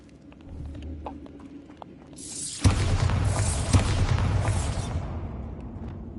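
Bombarda spell cast in Hogwarts Legacy, a loud blast that erupts suddenly and rolls on as a sustained, crackling roar for several seconds after a few quiet clicks.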